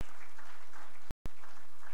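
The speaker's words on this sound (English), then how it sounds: "A round of applause to her." Conference audience applause at a Digital Africa event, a moderate, even patter of clapping cut by a brief moment of silence midway.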